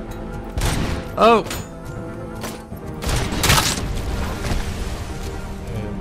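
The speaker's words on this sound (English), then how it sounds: "Definitely threw a grenade." A grenade goes off in RoboCop: Rogue City, a loud booming blast in the middle of the clip amid game gunfire and effects, with a man exclaiming briefly.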